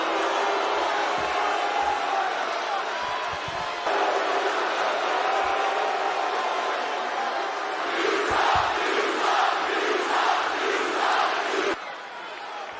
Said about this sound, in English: What a horrible crowd.